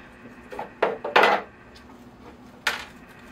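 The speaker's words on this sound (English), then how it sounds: "So I'll begin raking out the root system." Roots of a small oak bonsai being raked out in a simple cement pot, giving a few sharp scraping and knocking scratches in short irregular bursts, close and fairly loud over quiet background.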